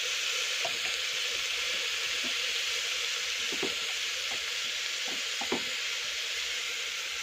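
Khichri being stirred in a frying pan, a steady sizzling hiss with scattered soft knocks of the spoon against the pan, moderately quiet and alone throughout.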